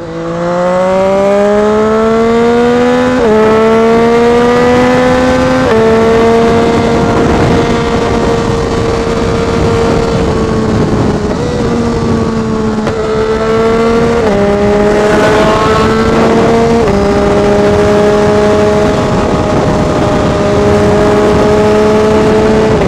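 A car engine accelerates hard after a downshift from sixth gear, loud and close, its revs climbing in stepped rises with gear changes over a steady road roar.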